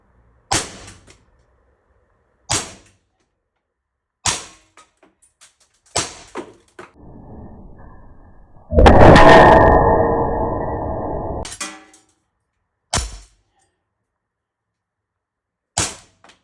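Sharp, loud shots from a Sig Sauer P320 X Carry pistol ring out one at a time at irregular intervals, with a brief stretch of hissing noise in between.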